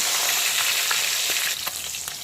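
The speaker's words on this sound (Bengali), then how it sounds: "মাছের একটা দিক কিন্তু ভালো মতো ভাজা হয়ে গেছে।" Pieces of bhetki fish fry in hot oil, a dense, close sizzle with a few crackles that eases slightly toward the end.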